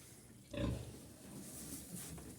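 A sow gets up to eat, giving a short, quiet low grunt close by amid faint farm background noise.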